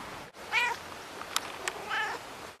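A cat meows twice, well apart, each call clear and moderately loud against a quiet background with a couple of faint clicks between.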